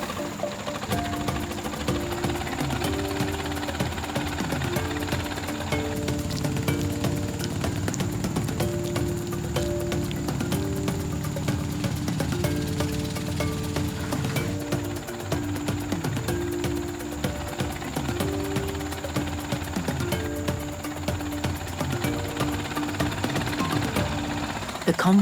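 A small boat engine, just patched up after a breakdown, runs steadily with a rough, knocking rhythm. A narrator's voice is heard over the constant mechanical chugging.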